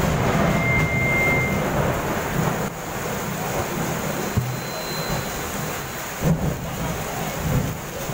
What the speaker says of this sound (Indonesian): Hujan mas,